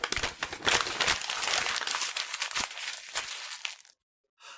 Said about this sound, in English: When you scrunch up, scrunchup, a piece of paper, you crush it.